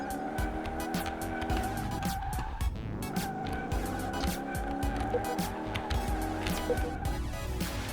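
Tires screech continuously in a burnout in Car Mechanic Simulator 2018 while the engine howls at high revs, a loud sustained squeal wavering in pitch for the whole stretch.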